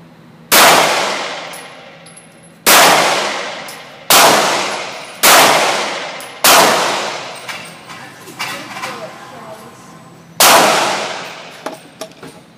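A Smith & Wesson M&P Shield 9mm handgun fires at a shooting range: six loud, sharp shots spaced a second or two apart, each with a ringing decay, plus faint clatter between them.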